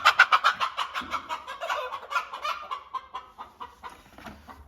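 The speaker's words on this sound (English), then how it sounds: "I think we've got a broody in here." A broody Welsummer hen in a nest box gives a rapid run of close, rhythmic clucks and growling churrs. The calls slow and soften toward the end.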